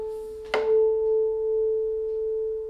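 A single harmonic plucked on an inexpensive acoustic guitar strung with Elixir strings rings out as a clear, pure sustained tone after a short attack, slowly fading, with no voices.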